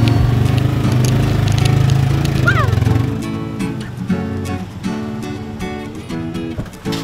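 A motorcycle engine runs at a low, steady idle close by while riders set off with a traditional petis maker in Indonesia; voices talk over the engine's throb.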